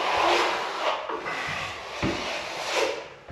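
A plastering trowel works wet plaster in a few close, smooth scraping sweeps, each rising and fading, with no talk.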